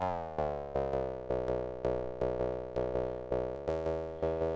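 A Joranalogue Orbit 3 oscillator sounds a steady, harmonically rich tone, re-struck about ten times in an even pulse, each note starting loud and easing off slightly before the next, with no voices.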